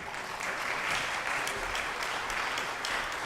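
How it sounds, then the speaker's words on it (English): A crowd applauds steadily, a dense wash of many hands clapping at even loudness throughout. "I'm clapping as best I can."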